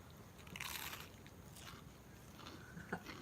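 Crunching bites into a fried potato scallop from a fish and chips meal, a few crisp, close bursts with chewing in between and one sharp crack near the end.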